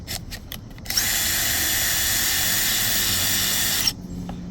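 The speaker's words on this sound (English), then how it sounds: "I think you can put the drill bit in reverse and it'll melt the hole back out" A power drill with the bit in reverse melts a hole through a rubber radiator air duct part on a 2014 Ford F-150: a steady whine for about three seconds, a high, even hiss-like drone starting and stopping abruptly, with a few brief knocks before it.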